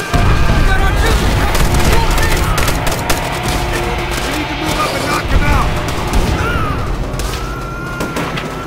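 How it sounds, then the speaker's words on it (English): Artillery fire in a Call of Duty battle against Japanese infantry: continuous loud booms and gunfire crashing through the whole stretch, with shouted voices mixed into the chaos. "We got artillery!"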